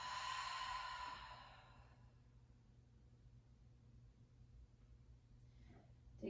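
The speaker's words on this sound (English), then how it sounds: "Exhale, open the mouth." A long, deep exhale through the open mouth during a gentle yoga breathing practice, breathy and close for about two seconds before fading into quiet room hush.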